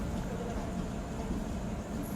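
A Hubballi-Bengaluru superfast special train with extra coaches passes nearby, giving a steady, low, continuous rumble and rattle that holds even throughout, moderately faint.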